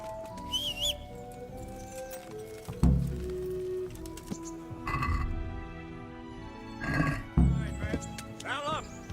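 Horses in the video game Kingdom Come: Deliverance, with a dappled gray mount near a stallion, giving snorts, whinnies and hoof sounds in scattered bursts while voices speak over them.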